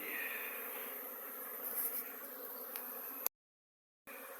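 Honey bees in spring flight around a hive of pedigree Buckfast-line colonies, a soft continuous buzzing drone heard alone at moderate distance, briefly cut to silence near the end.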